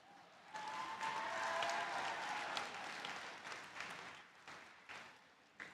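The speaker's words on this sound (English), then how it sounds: "Why did that get the biggest applause?" Graduation audience at a high school ceremony bursts into sustained applause that swells, holds steady, then tapers with scattered claps near the end, a broad crowd sound heard from a middle distance.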